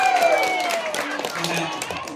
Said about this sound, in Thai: ปรบมือดังๆ